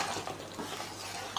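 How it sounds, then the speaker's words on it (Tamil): A spoon scrapes and stirs through thick chicken curry with ground coconut in a pot, soft and close, with a faint bubbling simmer underneath. "நல்லா கிளறி விட்டுருங்க"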